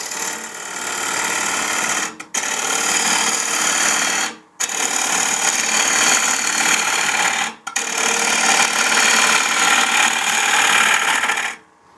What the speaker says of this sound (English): So right now I'm at about 1100 RPM, and this is going to be basically a drawing cut, a pull cut.